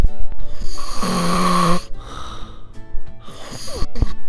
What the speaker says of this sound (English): excuse my boyfriend in the background snoring